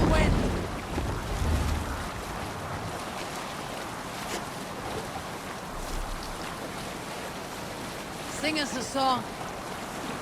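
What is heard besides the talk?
sailing ship at sea in video game Assassin's Creed Valhalla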